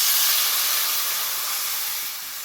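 Water hitting a hot pan of spice paste for a Bengali prawn and gathi kochu curry, giving a loud steady sizzling hiss that fades slightly toward the end, with no talking.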